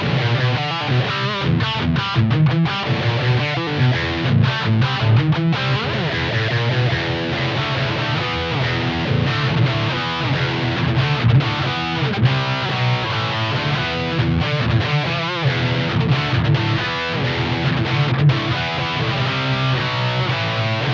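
An electric guitar plays through a Blackstar ID 30 TVP combo amp set to EL84 power-tube voicing with a crunchy tone and no effects. The riffing is continuous, dense and fairly loud for about twenty seconds, with no voice over it.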